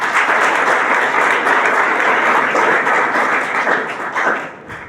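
A lecture audience breaks into loud, sustained applause, a dense wash of many hands clapping together that holds steady before thinning out at the end.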